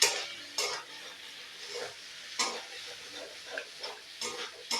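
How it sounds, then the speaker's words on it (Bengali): Potatoes fry over low heat with spices in a pan for a fish-head cabbage curry, with a steady close sizzle broken by repeated scraping stirs and a few sharper clinks of the spatula against the pan. "আবারও একবার নাড়িয়ে চাড়িয়ে আলুটা ভেজে নেব মশলার সাথে।"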